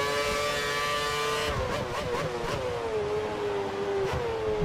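A Formula 1 race car in F1 2013 screams at high revs, then its pitch drops through several quick downshifts before holding a steady whine, loud and close with no talk.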